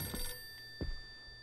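A telephone rings in a spooky horror video game, a short faint electronic ring followed by a quieter second pulse over a steady tonal hum.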